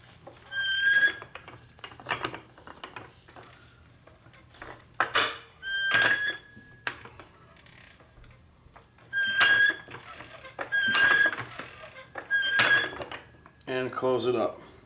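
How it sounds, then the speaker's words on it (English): A Harbor Freight 3 ton hydraulic jack arm is pumped in repeated strokes, each giving a metallic clank with a high squeak, in an uneven rhythm of bursts separated by short pauses. "now we're going to repurge the system by gently opening it and pumping this arm"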